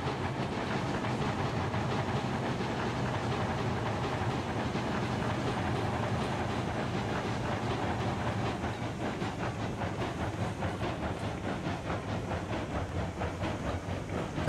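Steam locomotives hauling coal and iron trains in the game Railroads Online make a steady, loud rumble with rhythmic clicking and hissing that runs without a break, with no talking.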